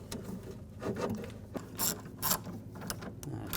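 Ratchet tightening window regulator bracket bolts inside the door of a 2006-2010 BMW 550i, a close run of clicking pawl bursts with a few brighter metallic strokes and short pauses, no talking.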